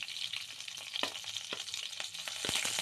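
Green chilies sizzle in hot oil with urad dal and mustard seeds for a beetroot palya: a steady, bright frying hiss with a few soft stirring clicks and pops, close and moderately loud, no voices.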